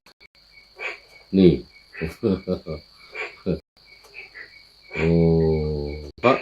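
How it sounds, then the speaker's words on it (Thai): Frogs croaking loudly at a temple keep up a steady, shrill chorus throughout, beneath a man's sermon-like speech. "เขียดกบนี่ร้องกันดังเหลือเกิน"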